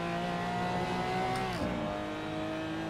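A race car in Assetto Corsa passes close by, its engine note holding steady, then dropping sharply as it goes past, set over the continuous drone of the player's own engine.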